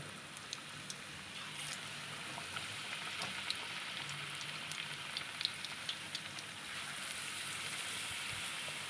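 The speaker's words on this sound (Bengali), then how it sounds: "এবার তেলের ওপরে এক এক করে গাঁদাল পাতাগুলো দিয়ে দেবো" Gandhal leaves go into hot oil one by one, giving a faint, soft hiss that swells toward the end, a quiet steady crackle with light pops and no voices.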